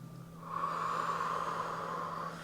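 A long, steady breath drawn out over a couple of seconds during a home workout exercise, close and soft, with faint background hiss and no talking.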